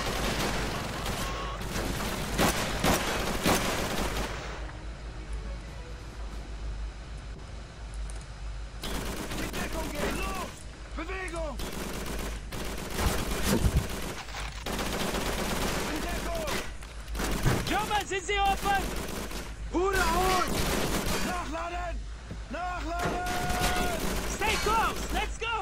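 Battle sounds from Call of Duty 3 on the Fuel Depot level, with dense bursts of machine-gun fire and rapid gunshots coming in waves, near and loud, over constant background combat noise.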